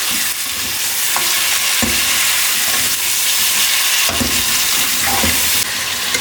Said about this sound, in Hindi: ये इसको थोड़ा सा मिक्स करके हल्का सा आपने भून के